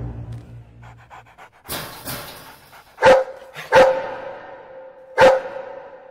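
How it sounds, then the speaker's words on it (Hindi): A dog in a Hindi comedy film scene barks three times, sharp, loud and close, with spaced barks over faint background noise and no talk. "ये तो कुत्ता है।"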